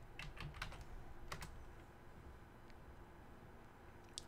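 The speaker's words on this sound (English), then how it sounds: "I'm going to click in that, and I'm going to type in viable." Keys on a computer keyboard clatter faintly in a quick burst of typing, followed by a few scattered taps, set against a steady background hum.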